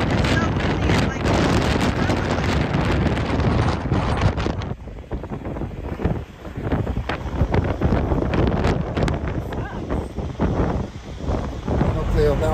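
Strong wind, 70+ mph gusts in Wyoming, buffets the microphone in heavy, roaring gusts, briefly easing midway before surging again.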